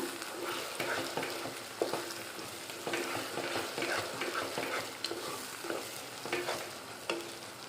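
Egg and broad bean curry cooking Andhra style in a pan, with a steady sizzle of frying under repeated scraping strokes of a spoon stirring, close and continuous with no voices.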